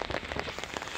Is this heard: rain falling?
yes